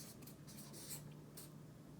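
Handwriting during an accounting lecture, faint scratchy strokes in short bursts with gaps between them, quiet and close, set against a low steady hum.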